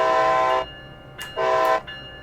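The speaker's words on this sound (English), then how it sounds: "Ooh, that's a loud train." Two loud blasts of a train horn in Train Sim World, each a steady, harmonic tone held about half a second, separated by a short pause, close and alone with no talk.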